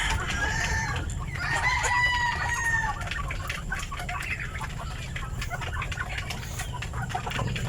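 Free-range chickens cluck continuously while a rooster crows near the start, loud and close over a constant low rumble of background noise.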